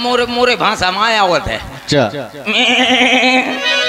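A man on stage at a village Ramlila comedy show imitates a goat, producing wavering, nasal bleats in a loud voice, with brief spoken words mixed in.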